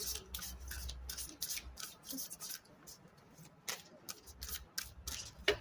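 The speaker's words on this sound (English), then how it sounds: "Two more shuffles." Tarot cards are shuffled and rubbed together in quick bursts of crisp riffling and sliding, close up and fairly quiet, with short pauses between.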